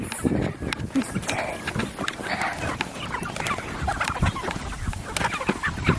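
Busy clucking and squawking from a flock of chickens, several calls overlapping, with scuffling and a voice faintly underneath.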